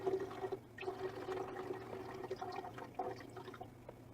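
Water poured out of a small pet tank holding a dead creature, a steady liquid pouring and trickling sound, fairly faint and close, running continuously for about four seconds with no talking.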